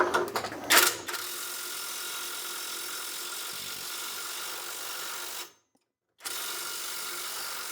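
An Alloyman cordless impact wrench runs continuously at high speed with a steady, dense mechanical whir, starting after a brief burst. It cuts out for under a second of silence, then starts up again just as loudly.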